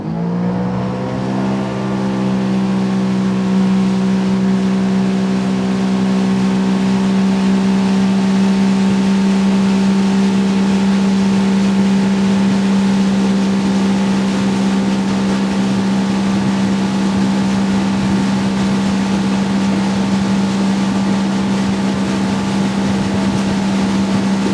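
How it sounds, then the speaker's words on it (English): A 2025 Sea-Doo Switch Fish pontoon boat accelerates hard in sport mode, its engine a loud, sustained drone that climbs in pitch and then holds steady under rushing water for the full stretch. "to see how quickly we can get this boat moving. Got it in sport mode."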